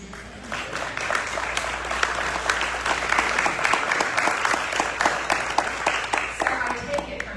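Sustained applause from a lunch audience at a Rotary event fills the room, dense and steady throughout with a low hum underneath.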